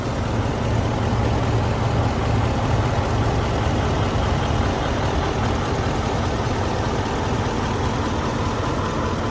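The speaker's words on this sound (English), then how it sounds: "We'll step out here so you can hear the engine running." A 2021 Chevrolet Silverado 3500HD Duramax diesel pickup engine idles steadily nearby, a loud, even, low rumble with a constant chugging texture and no voices.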